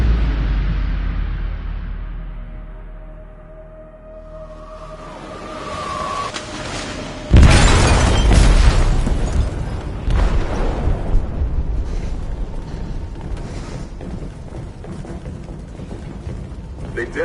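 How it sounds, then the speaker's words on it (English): A sudden heavy detonation in a ship's hold in Detroit: Become Human bursts in after a low rumbling lead-in, followed by a long, loud roar of rumbling and debris that slowly thins out. "They detonated an explosive in the hold."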